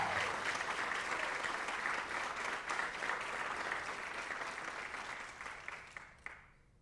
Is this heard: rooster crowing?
no